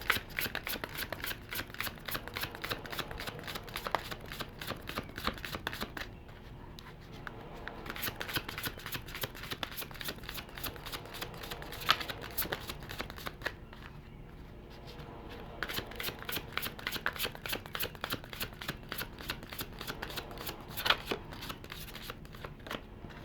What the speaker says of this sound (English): now I'm going to get 3 cards from the Psychic Tarot.